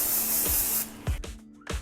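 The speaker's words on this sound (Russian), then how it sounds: "Сбрызгиваю спрей воском." A short aerosol burst of hair wax spray hisses onto hair for under a second, close and bright, followed by a few soft handling rustles.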